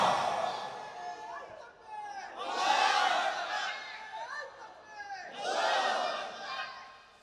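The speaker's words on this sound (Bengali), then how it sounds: "কারা কারা রাজি আছে তাকবীর দিয়ে আল্লাহকে দেখাই দাও।" A large crowd at an outdoor Islamic sermon gathering in Chattogram shouts the takbir in loud, massed unison, two or three swelling roars separated by brief lulls, with a lead voice calling between them.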